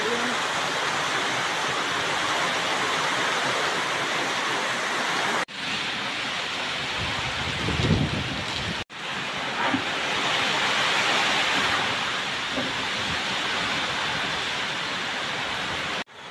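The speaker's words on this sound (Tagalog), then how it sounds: "Lakas ng ating ulan ngayon." Steady, dense roar of heavy rain pouring continuously, loud and close, with a brief dropout partway through and a few faint voices underneath.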